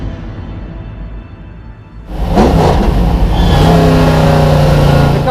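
A vintage racing car, rebuilt over four years to original specification, a rival to the Porsche 917 and Ferrari 512, revs loudly nearby, its engine swelling from a low idle into a sustained, brutal roar that holds steady to the end.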